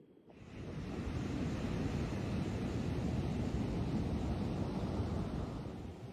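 Ocean surf on the Portuguese coast rises from quiet into a steady, loud roar of breaking waves with wind noise, holding for several seconds before easing slightly at the end.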